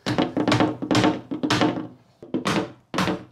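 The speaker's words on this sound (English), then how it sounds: "when you're hitting them in, don't bang the glass, just put your mallet on the glass." A mallet taps repeatedly on glazing to seat it into a uPVC door frame, giving a rapid series of dull, close thunks in short bursts separated by brief pauses.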